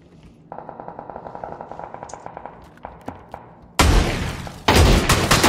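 Rapid automatic gunfire bursts in a video game first-person shooter: a sustained fast rattle of shots, then a few single cracks, followed by two louder, dense volleys at close range, with no talking.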